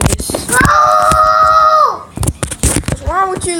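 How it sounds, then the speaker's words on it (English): A child lets out a long, loud, sustained yell at close range, then more short shrieks and a rising wail follow among brief sounds. "Why are you yelling like that?"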